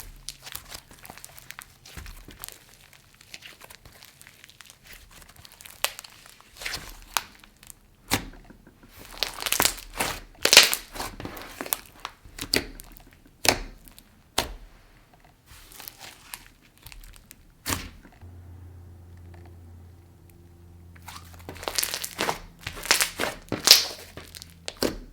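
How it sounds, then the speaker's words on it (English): Crunchy, sizzly cloud cream and snow fizz hybrid slime squished and pressed by hand, giving dense crackling and crinkling bursts that come in repeated waves, close and fairly loud with short quieter pauses. "It is a cloud cream / snow fizz hybrid, so it's very creamy yet kind of crunchy and sizzly at the same time."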